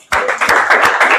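A classroom of students claps together in a short, lively burst of applause, with several quick pulses of hand claps close by.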